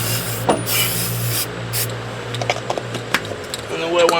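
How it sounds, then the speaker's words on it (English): Fluid Film rust inhibitor is sprayed in bursts onto the corroded front hub of a 2003 Chevy Suburban during a hub replacement, a close hissing spray with brief pauses over faint shop background. "then I will just go ahead and spray this down with some fluid film"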